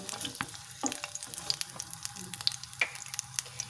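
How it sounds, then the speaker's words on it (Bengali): Chopped pointed gourd pieces frying in hot oil in a pan while being stirred, giving a steady crackling sizzle punctuated by sharp scraping clicks of the spoon, fairly quiet and close. "এখন আমি কেটে রাখা পটলগুলো দিয়ে দেব। দিয়ে ভালো করে নেড়ে চেড়ে নেব।"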